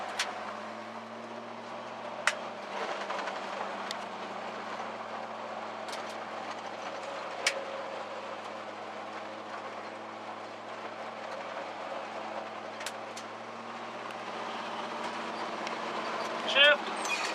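A 1966 Chevy C10 pickup on the road, a steady low engine drone and road rumble from inside the cab, with a few sharp clicks and knocks as the gears are shifted.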